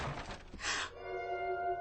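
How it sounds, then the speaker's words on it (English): A single dull thud as a person falls somewhere nearby, followed by a faint shattering ring that fades away, with no one speaking. "Something fell. Oh, no. No, it was someone."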